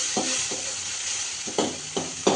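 A spoon stirs food frying in a pan, a steady broadband sizzle under a few sharp scraping strokes, the last ones louder and closer together.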